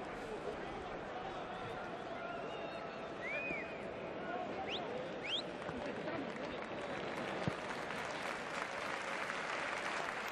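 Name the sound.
crowd applauding at a football match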